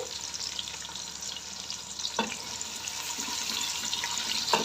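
Sliced onions frying in a pot for chicken white pulao, a fairly quiet continuous sizzle with light watery crackle and a couple of sharp clinks from a utensil.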